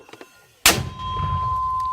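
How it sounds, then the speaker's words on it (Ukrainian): A 200-kilogram mortar fires a single sharp, loud blast on a muddy front line, after a short stretch of quiet. A low rumbling tail and a steady ringing tone linger behind it. "першим пострілом 200-кілограмовий міномет розкидає довкола себе шматки фронтового болота"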